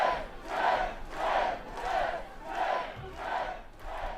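A large crowd at a Trump event cheers and chants in steady rhythmic surges, roughly two per second, loud and close, with no single voice standing out.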